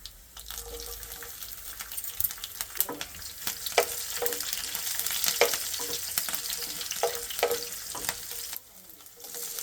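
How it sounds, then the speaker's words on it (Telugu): Cumin seeds and chopped garlic sizzling in oil in a frying pan, a steady crackling fry with occasional stirring clinks and scrapes, fairly close and without talk. "ఫ్రైయింగ్ ప్యాన్లో తగినంత నూనె వేయాలి జీలకర్ర వెల్లుల్లి ముక్కలు వేయాలి"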